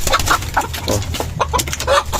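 Hens clucking steadily with a rooster among them, a dense, close farmyard chorus of overlapping calls with no talk.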